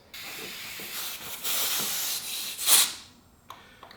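Compressed air hisses steadily at 100 psi through a leak-down tester hose into cylinder 4 of a Honda S2000 engine that is burning oil, swelling louder briefly near the end before cutting off, with faint clicks after.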